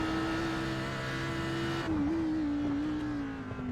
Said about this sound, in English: Just listen to that Audi